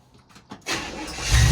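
A supercharged 1957 Chevy engine cranks briefly with a few starter turns, then catches and roars to life loud and close, rumbling deeper as it settles.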